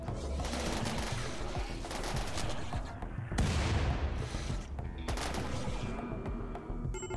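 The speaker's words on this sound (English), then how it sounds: "Shoot the centipede" Colonists fire on a centipede in the RimWorld video game, with dense, rattling bursts of gunfire and a few heavier impacts that keep up without pause.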